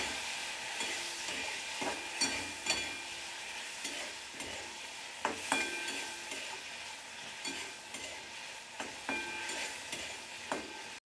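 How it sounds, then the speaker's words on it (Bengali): Fish fries lightly in hot oil with turmeric in a home kitchen, giving a soft, steady sizzle broken by repeated clinks and scrapes of stirring at irregular intervals. "দিয়ে আমি মাছটাকে হালকা করে ভেজে নেব"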